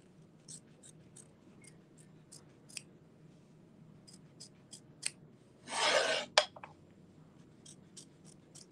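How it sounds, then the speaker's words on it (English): Small offset-handle hoop scissors trim fabric close to tack-down stitching on a pumpkin appliqué: a run of quiet, crisp snips, with one longer rasping cut in the middle, close up and without talk. "now I'm going to use those hoop scissors mini again, and I am going to trim close to my tack down stitching"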